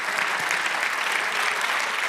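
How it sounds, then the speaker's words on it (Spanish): A church congregation applauds in a dense, steady wash of clapping that fills the room evenly from start to finish, with no clear gaps. "Dale aplauso al Señor"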